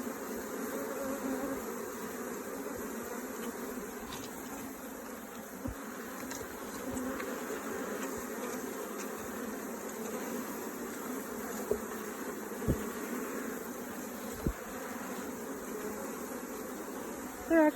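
Honeybees drone in a dense, continuous buzz around an opened top bar hive, steady and close, with a few soft knocks from handling the hive; no one speaks.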